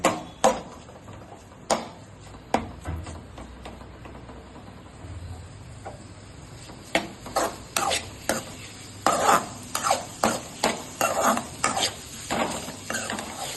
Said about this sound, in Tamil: மேரினேட் பண்ணி வச்சிருந்த ப்ரான்ஸ் எடுத்து இதில் ஆட் பண்ண போகிறோம். நல்லா ஒரு 5 மினிட்ஸ் நல்லா சாட்டே பண்ணுவோம்.